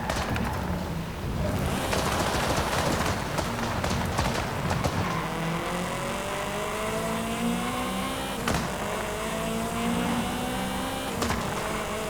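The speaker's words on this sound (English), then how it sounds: "The engine sound is awesome as well. Gotta love the sound of engines from the 70s." A 1973 hot hatch racing in Forza Horizon 5, its 1970s engine loud and continuous, with rising and falling revving pitch through gear changes and a few sharp transient bangs.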